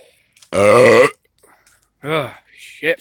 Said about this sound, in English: I wonder if burping is considered offensive now